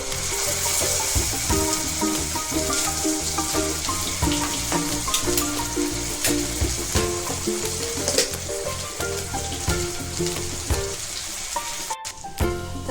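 Cumin and ginger-garlic paste frying in butter for palak paneer, a loud continuous sizzle and crackle up close with scattered pops, with no one talking.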